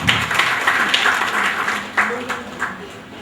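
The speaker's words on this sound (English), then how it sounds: "I request all of you to welcome him with the loud applause." A seminar audience applauds to welcome a speaker to the podium: a moderate, steady patter of many hands with a few louder individual claps, fairly close, with faint voices underneath.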